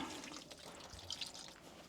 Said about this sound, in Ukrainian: Додаємо наступний інгредієнт. Додаємо воду.